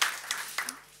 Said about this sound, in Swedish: Varsågod, en applåd till Ann-Therese.